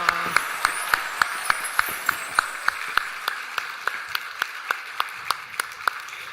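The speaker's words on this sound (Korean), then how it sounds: "우리 큰 박수로 하나님께 영광을 돌리겠습니다." Members of a Samcheok church congregation clap in a steady, evenly spaced rhythm at a New Year's Eve service right after the midnight countdown, each sharp clap ringing out in a large hall over a quiet background.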